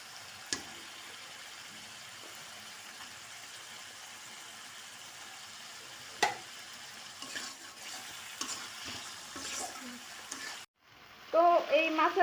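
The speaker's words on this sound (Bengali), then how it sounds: "তো এই মাছের মাথাটা দিয়েও সুন্দর করে একটু কষায় নিচ্ছি সুন্দর করে।" Fish heads frying in spiced oil in a pan, a low steady sizzle with occasional clicks and stirring, fairly faint, ending in a few louder bumps.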